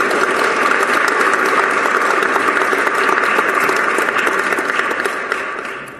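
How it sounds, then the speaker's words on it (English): A large audience at a Nevis heritage celebration gives a sustained round of applause, dense and steady throughout before fading slightly at the end, with no voices over it. "I think he needs to be given another round of applause"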